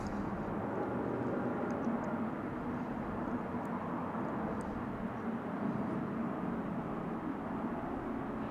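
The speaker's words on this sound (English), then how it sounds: "You hear the roar of a plane there. It's another east side departure." A departing American Airlines jet at DFW International Airport, bound for LaGuardia, gives a steady, continuous broadband roar that holds at an even level for the whole stretch, with no talking over it.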